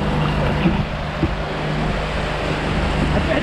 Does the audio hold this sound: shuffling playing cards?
no